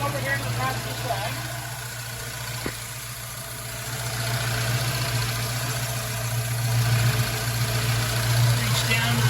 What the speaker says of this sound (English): our EFI, you are going to hear the injectors doing tick, tick, tick, tick, tick, tick as well